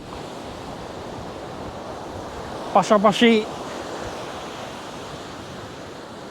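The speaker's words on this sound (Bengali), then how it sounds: "এই যে সমুদ্র সৈকত" Steady broadband surf rolls in on the open sea beach at Jamtola in the Sundarban, with wind across the microphone, and a voice speaks briefly midway through.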